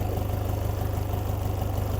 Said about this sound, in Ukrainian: Відбувся запуск двигуна.